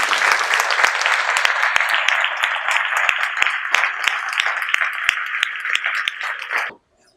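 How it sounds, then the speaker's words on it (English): Dense, steady applause from an audience at an award ceremony, many hands clapping together loudly for several seconds before stopping abruptly. "One more time, one big round of applause."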